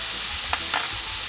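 Rice is stir-fried with dark and light soy sauce, oyster sauce and wine, giving a steady hiss of frying with a few soft scrapes of the spatula, close up and without talk.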